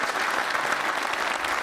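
Steady, dense audience applause fills the room at an officer-training quiz show, loud and continuous throughout with no pauses or talk.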